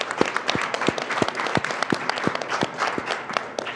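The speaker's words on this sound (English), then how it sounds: "Let's give them a round of applause as well." Audience applause at a symposium on race and mental health: dense, steady clapping from a crowd, fairly close and sustained, with no speech over it.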